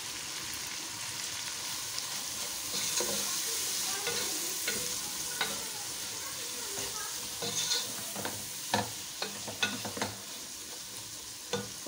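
Ground cumin, red chili powder, garam masala and salt fry in a pan for Bohra daal gosht, a continuous, moderate sizzle with occasional stirring scrapes and light clinks toward the end.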